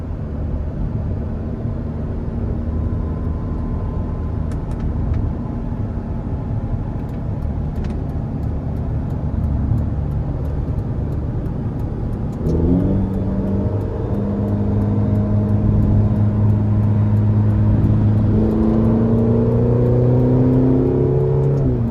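A 2016 Ferrari California T with a 3.9-litre twin-turbo engine and dual-clutch gearbox accelerates on the interstate, heard from inside the car. The engine note climbs steadily, then drops with a quick gear shift and rises again.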